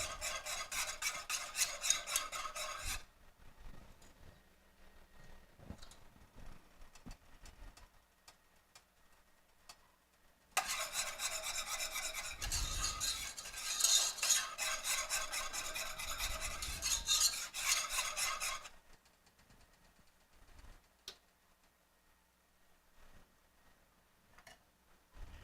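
Coconut toasting in a pan for chewy coconut cookie bars, stirred in two long stretches of steady raspy scraping and rubbing, separated by quieter pauses with a faint background tick.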